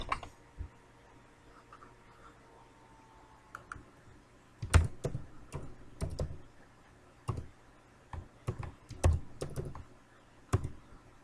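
Irregular clusters of keystrokes on a computer keyboard while filling in an online federal tax ID (EIN) registration form, close and fairly quiet, with sparse tapping at first, then denser bursts of clicks.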